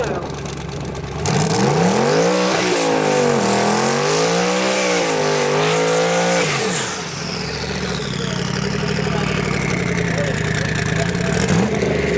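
A destroked LS twin-turbo Chevrolet Nova makes a drag racing pass, its engine loud and close as it launches and revs hard through several rising gear pulls for about five seconds, then eases off into a lower steady drone with voices faintly underneath.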